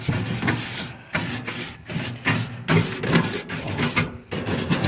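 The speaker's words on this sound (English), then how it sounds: "Scrub all that tar and burnt debris from the last grill." Scrubbing of tar and burnt debris off a grill grate, heard as repeated rough rasping strokes in a steady back-and-forth rhythm, close and fairly loud, with short pauses between bursts and no talking.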